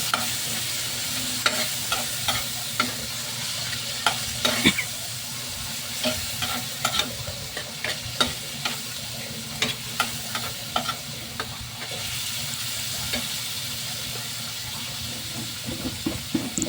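Corned beef fries in a pan for ginisang odong, a steady sizzle and hiss under repeated scraping stirs and clinks from the spatula, close and continuous with no talking.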